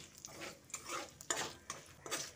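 Whole garam masala, cumin seeds, bay leaves and dried red chillies frying in hot oil for a tempering, a soft crackling sizzle with small clinks of a spoon in the pan, fairly quiet and close.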